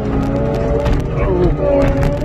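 A Cat 289 skid steer running on frozen ground, its engine a loud, close, steady growl whose pitch wavers slightly as it works.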